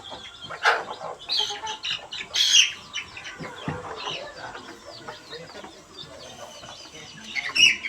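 Chicken kept in a cage, clucking and chirping continuously with a few louder squawks, close by, with faint voices in the background.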